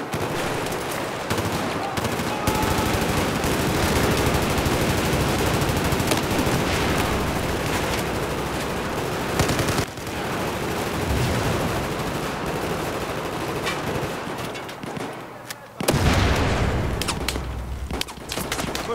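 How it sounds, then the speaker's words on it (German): Sustained, loud automatic machine gun fire in the Battlefield 4 video game, dense rapid bursts running almost continuously, with brief gaps and a louder burst near the end. "Oh Gott. Beschuss!"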